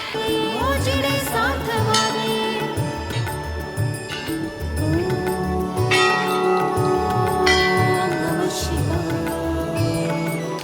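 Many metal bells ring together at the Golu Devta temple in Nainital, a dense and continuous clanging with overlapping bright tones and repeated strikes, loud and close, with no talking.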